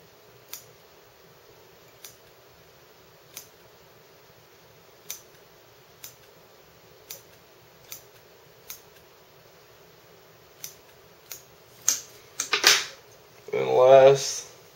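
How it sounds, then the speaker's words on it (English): Small scissors snip excess material while a shrimp fishing fly is tied, a series of sharp, quiet clicks spaced about a second apart, ending in a brief rustle and handling noise. "Trim the excess."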